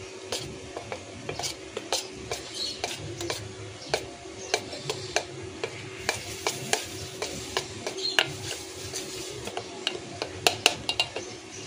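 Batata vada batter being mixed with a pinch of soda in a bowl: steady rhythmic clacks and scrapes of a spoon against the vessel, close and repeated over several seconds, with no talking.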